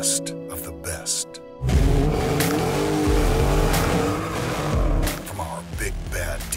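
Dodge Hellcat tires screeching loudly on pavement as a car races, a sustained harsh skid with roaring engine under background music, starting abruptly after a quieter intro.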